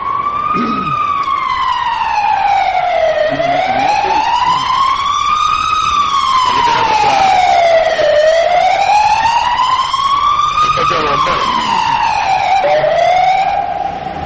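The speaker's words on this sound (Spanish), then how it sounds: "Parece que lleva un escándalo el coche de bomberos." A fire engine siren wails loudly in a long rising-and-falling sweep, repeating about four cycles as it passes close by, with no talk over it.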